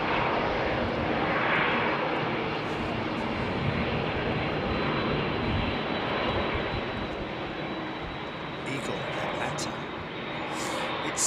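A Boeing 747 jet roars steadily through its takeoff at London Heathrow, a loud broadband engine rush that holds for several seconds with no letup, and faint talk sits beneath it.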